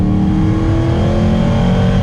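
A 1974 Alfa Romeo Montreal's engine revs steadily and loudly from inside the moving car, a continuous strong drone with no talking over it.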